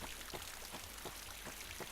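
Steady rain in the Garry's Mod DayZ game, a constant dense hiss of falling water with faint droplet patters, even and unbroken across the short stretch.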